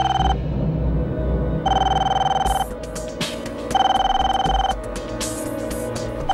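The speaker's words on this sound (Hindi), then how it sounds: "फोन उठाओ" A telephone rings in repeated bursts of electronic trilling, loud and close, separated by short pauses, with a low background music bed underneath.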